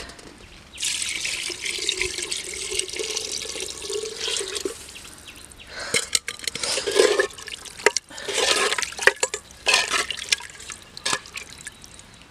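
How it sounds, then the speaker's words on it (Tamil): Water runs and splashes steadily into a clay pot for biryani for several seconds, with a louder gushing burst near the end, close by and with no talking. "தண்ணி ஊற்றிக்கலாமா"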